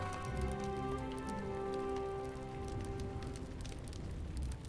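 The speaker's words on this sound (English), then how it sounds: "And it's also raining." Rain falls in the fantasy video game LOTRO, a soft, continuous patter heard faintly beneath sustained tonal background music.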